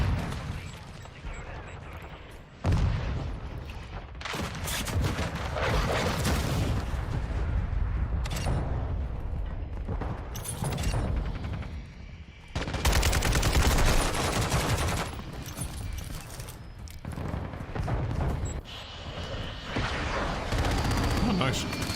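Rapid bursts of automatic gunfire and explosions in Modern Warfare 2 as a VTOL aircraft is shot down, loud and sustained, with players talking over the shooting.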